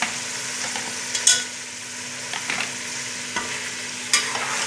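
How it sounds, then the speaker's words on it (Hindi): Chopped tomatoes fry in a mutton karahi while a utensil stirs them, giving a steady soft sizzle broken by several sharper scraping stirs, close and without talk. "अच्छी तरह से फ्राई करने भून लें इसी तरह से"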